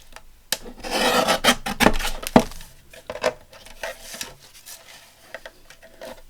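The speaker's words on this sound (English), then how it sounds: "I better trim this edge first because it's not straight either" A journal page edge is trimmed by hand, with close rasping, scraping cuts in uneven bursts followed by softer intermittent rubbing and ticks.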